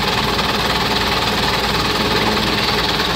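A running Isuzu 4HK1 diesel engine, noted for burning oil yet pulling strongly, drones steadily and loudly throughout with a dense, even knocking clatter and no pauses.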